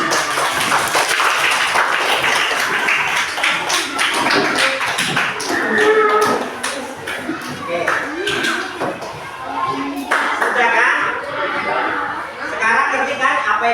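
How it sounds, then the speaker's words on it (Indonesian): A primary school class claps in a coding lesson, a dense, sustained patter of many hands close by that runs on for over ten seconds, with children's voices and chatter mixed in. "kasih tepuk tangan"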